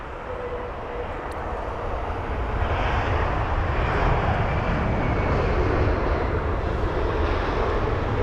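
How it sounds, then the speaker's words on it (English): Swiss Airbus A320neo airliner at London Heathrow, a steady broad jet engine roar that swells slightly as it passes, heard at a distance with no talking. "There's a Swiss 320 Neo."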